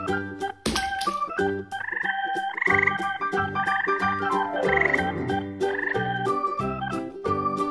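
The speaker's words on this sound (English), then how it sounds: "Frog." A frog croaks in short repeated bursts over a busy backdrop of steady music that plays throughout.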